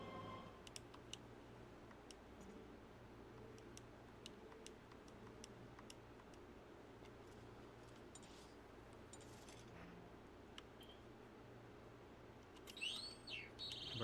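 Birds chirp and tweet in scattered short calls over a steady low ambient hum in a video game, quiet throughout, with a brighter cluster of calls near the end.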